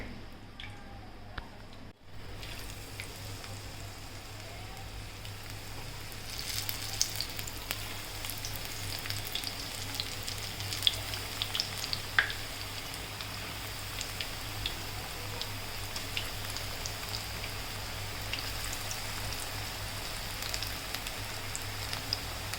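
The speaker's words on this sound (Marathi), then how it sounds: "आपल्या मेथी बटाट्याची भाजी करायला घेऊया छान तेल तापलं आहे" Methi and potato bhaji fritters frying in hot oil, giving a steady, close sizzle with fine crackling pops that runs throughout after a brief quiet start.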